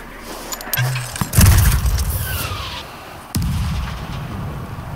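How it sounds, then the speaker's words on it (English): Mortar firing in the World War Z video game, a couple of loud booming launches with sharp attacks and rumbling tails, preceded by a short mechanical click and separated by brief quieter gaps. "Mortar is up."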